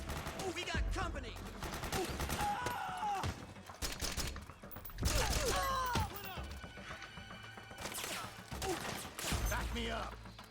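Bursts of gunfire in Metal Gear Solid 4 during a firefight, rattling in clustered volleys under shouted voices and other battle noise.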